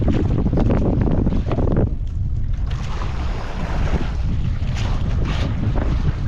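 Loud, steady roar of wind buffeting the microphone out on the water, with engine rumble and splashing from boats moving nearby.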